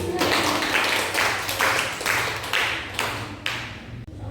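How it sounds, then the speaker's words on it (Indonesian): A small group of high school students claps for a few seconds in a classroom, a loose patter of hands with voices mixed in beneath it. "Kasih tepuk tangan untuk kelompok 1"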